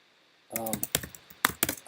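Keys clatter on a Mac computer keyboard in short uneven bursts, close and distinct after a brief quiet start, with a voice briefly mixed in.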